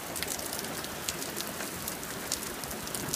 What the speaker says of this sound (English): It's raining so hard outside.